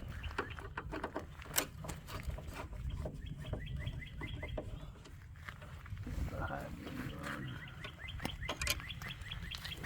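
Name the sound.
birds chirping outdoors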